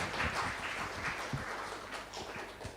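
Lecture audience applauding Professor Catherine Wolfram, steady dense clapping from many hands in a hall, moderately loud and continuous throughout with no talk.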